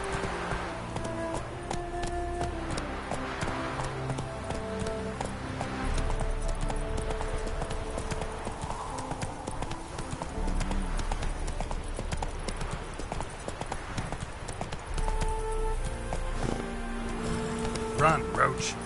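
Roach the horse gallops in The Witcher 3 with a steady, rapid clip-clop of hooves running throughout, close and fairly loud, layered over game music and occasional voices.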